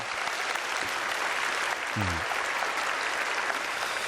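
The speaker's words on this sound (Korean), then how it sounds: "우리 하나님께 영광의 박수 올리겠습니다." Church congregation applauding together during a worship service, steady dense clapping filling the room throughout, with a brief low voice tone midway.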